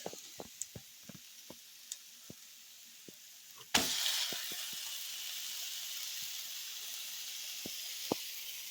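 Chicken sizzles on a Blackstone griddle with Italian seasoning, a steady hiss that jumps louder partway through as more meat hits the hot surface, with scattered light clicks and taps before it.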